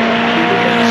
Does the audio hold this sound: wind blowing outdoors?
no